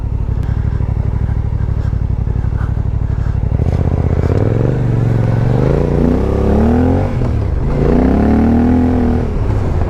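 A Suzuki V-Strom 800DE idles with a steady rumble on a gravel track, then its engine revs and rises in pitch as the bike moves off and turns around, loud and close, with crunching and clatter underneath.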